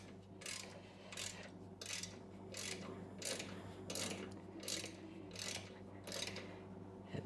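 A hand ratchet tightens the center bolts on a Harley Davidson engine guard, giving a run of about eight evenly spaced, crisp clicking strokes, close and fairly quiet, with no talk.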